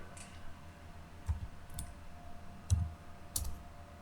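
Computer keyboard keys clicking while text is entered in AutoCAD, with a handful of separate, sharp keystrokes spaced irregularly and heard close but quiet in a still room.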